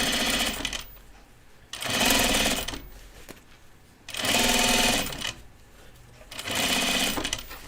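Sewing machine stitching fabric for a pair of overalls, four bursts of fast, steady needle clatter close by with pauses between them.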